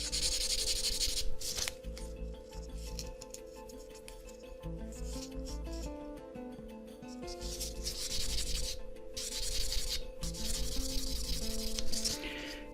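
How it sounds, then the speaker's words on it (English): Close, fine scratchy rubbing in short repeated strokes, pausing briefly between bursts, as a fine-grit sanding stick works over a hard plastic part of a 1/72 FineMolds Savoia S.21F model kit, with faint music beneath. "I'm using quite a fine grit sanding stick here."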